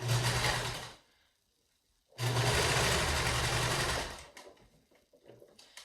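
A sewing machine stitches around a pleated face mask in two loud, close bursts of rapid whirring separated by a short pause, ending with softer handling clicks.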